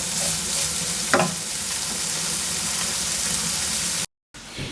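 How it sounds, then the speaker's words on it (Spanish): Pancetta frying in a pan over medium-high heat for pasta carbonara, giving a steady, close, loud broadband sizzle throughout, with a brief stir or clink near the start and a short cut near the end, with no talking. "lo vamos a dejar unos 4 o 5 minutitos a fuego medio alto para que esta panceta suelte toda la grasita y vaya cogiendo cuerpo"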